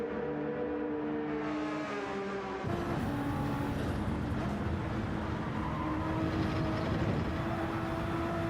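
Race car in a Le Mans GT sprint racing game, a continuous loud engine drone with shifting gear pitches and a sharp rev change partway through.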